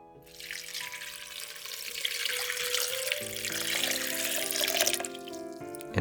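Water pours steadily from a tap into a blender holding cut pandan leaves, a continuous broadband splashing that grows a little louder, with a faint tonal hum in the background.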